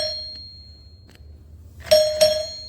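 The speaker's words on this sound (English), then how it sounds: "so I installed this bell, and after that, there's no true tone in that" A white Newhouse Hardware CHM3D door chime rings out twice in quick succession, two bright metallic dings close by in a quiet room after a few faint taps.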